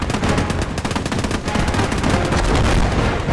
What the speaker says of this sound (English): that 50 cal up on the top, just laying waste